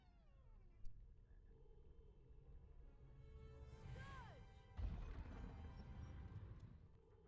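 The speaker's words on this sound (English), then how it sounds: "Cat." A cartoonish cat meows with rising and falling pitch inside the Harry Potter and the Chamber of Secrets video game, one mid-clip call over game music and effects, with a crash-like thump shortly after.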